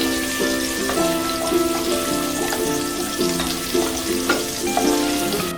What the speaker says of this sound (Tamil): இப்போ நம்ம வெங்காயத்தை கொட்டிடலாம்